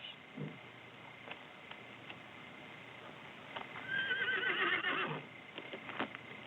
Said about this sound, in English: What's wrong with the horses?